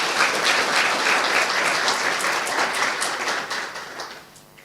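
Dense applause from a large audience gathered at a spiritual centre, steady and loud for about four seconds, then thinning out and fading at the end.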